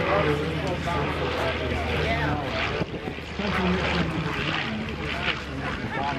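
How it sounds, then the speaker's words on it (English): Propeller airplane at the Camarillo Air Show 2014, a loud continuous engine drone with crowd and announcer voices mixed underneath, the drone dipping briefly midway. "Now this airplane is the same type of airplane."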